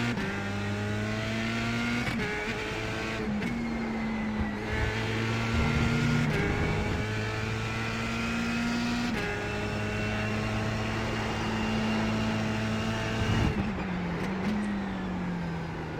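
Race car lapping Brands Hatch Indy in iRacing, engine loud and close with repeated climbs in pitch under throttle broken by quick gear shifts and drops, continuous and with no talk.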